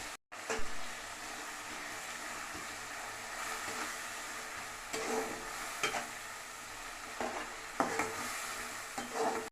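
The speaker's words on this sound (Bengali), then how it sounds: "টমেটো দিয়ে একটু কষা করব টমেটোর কাঁচা গন্ধটা যাতে কেটে যায়" Tomato paste fries with poppy seed and cashew paste in a pan, giving a steady close sizzle, broken by several louder spoon or spatula scrapes as it is stirred.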